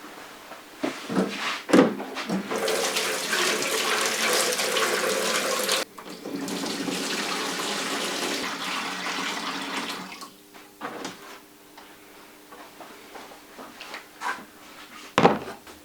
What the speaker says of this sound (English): Now I'll put this in water, pretty warm water, but not hotter than I can put my fingers in it